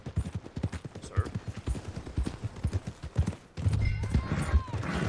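Horse hooves clip-clop at a steady walking rhythm in the Red Dead Online video game, close and clear, joined midway by a louder, denser rumble of hoofbeats, with a brief whinny-like tone and spoken voices in the background.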